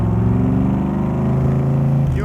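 A 1965 Shelby Cobra Backdraft roadster's engine rumbles loudly and steadily up close, with a deep, continuous drone that rises slightly in pitch near the end.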